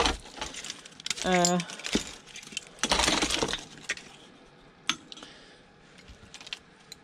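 Brass keys jangle and clink as they are handled among scrap electricals, in short bursts of bright metallic rattling with quieter gaps between.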